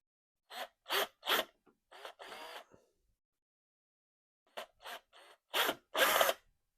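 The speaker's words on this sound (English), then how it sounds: "We'll drill our board." Short bursts of a small power drill whirring as it drills a circuit board, several quick pulses, then a pause, then more brief drilling runs, close by.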